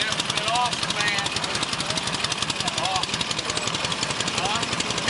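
An antique motorcycle engine runs loud and close with a rapid, rough, hammering beat at a steady pace, as on a long-distance endurance ride, while someone talks over it.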